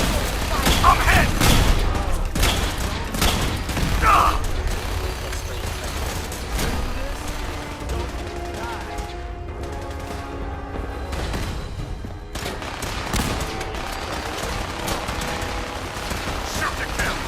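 Gunfire in the Fallout 4 video game: rapid bursts of shots crackle over a low rumbling game background, loud at first and thinning to scattered distant pops, with someone shouting in voice lines over the fighting.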